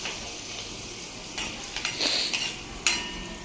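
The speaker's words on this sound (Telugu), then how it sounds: "తాలింపు దినుసులు వేసేసుకుందాం" Tempering spices hit hot oil for a pumpkin curry, giving a soft, steady sizzle with a few light clinks and stirring taps over it.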